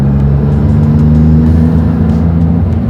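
Maserati MC20 engine in Corsa mode with traction control off, a loud, close, steady high-revving drone with strong low harmonics held for the full few seconds, no talk over it.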